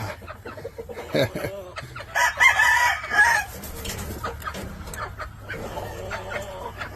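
A rooster crows loudly nearby, a drawn-out call in the middle, with clucking and soft chicken sounds around it.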